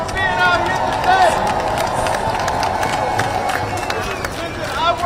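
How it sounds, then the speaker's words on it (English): Crowd at a May Day rally in Atlanta, Georgia cheering and whooping in a steady roar for about five seconds, with scattered clapping and shouts swelling again near the end. "Give yourself a big, loud, roaring cheer for being out here today."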